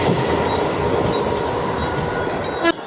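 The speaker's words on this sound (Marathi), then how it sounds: "भाई आता तुम्ही जी ट्रेन बघितली ती होती दादरची" A Mumbai local train passes close by at Dahisar station, a loud, steady rumble of wheels and carriages filling the whole stretch before cutting off abruptly near the end.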